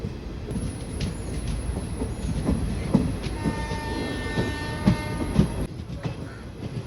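A passenger train on the Shoranur–Coimbatore line runs steadily near Palakkad, its wheels rumbling and clattering continuously with a faint high whine and occasional louder knocks.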